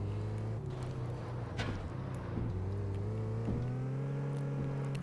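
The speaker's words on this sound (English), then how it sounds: "the engine sounds pretty nice on this car as well" A modded car's engine revs steadily in the Test Drive Unlimited 2 racing game, a sustained droning hum with rising and falling pitch as the throttle shifts, fairly quiet and continuous with no voice over it.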